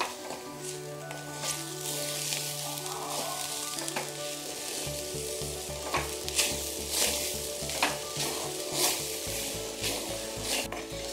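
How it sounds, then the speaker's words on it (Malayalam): Chammanthi podi ingredients, including pepper, being stirred and roasted in a pan, giving a continuous dry sizzle with repeated scraping strokes of the spoon over a low steady hum. "നന്നായി ഇളക്കി കൊടുക്കുക."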